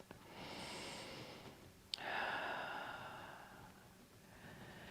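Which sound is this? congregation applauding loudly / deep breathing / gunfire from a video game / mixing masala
deep breathing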